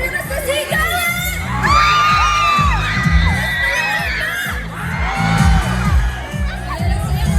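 Loud crowd cheering, shouting and whooping at the Hudyaka Zanorte festival, with high excited voices over a pounding low beat throughout.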